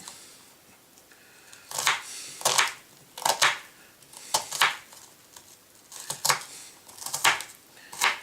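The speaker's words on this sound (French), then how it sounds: "Vous voyez que vous n'avez pas besoin de robot pour hacher finement un oignon" A knife finely chops half an onion on a cutting board in short bursts of two or three quick, crisp taps, repeated about every second after a quiet start, close and clear with no talking.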